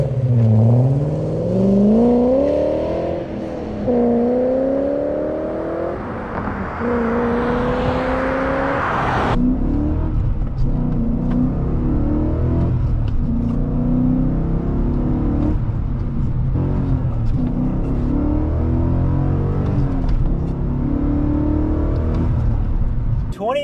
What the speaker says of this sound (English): when you floor it and make this car come alive, this V8 hits a new level.